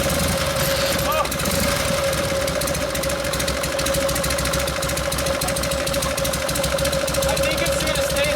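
A 1952 Harley-Davidson FL Panhead with a rusty, neglected body and a repaired Linkert carburetor runs after a kick start, a loud, steady, close engine drone with a rapid knocking pulse, and voices talk over it.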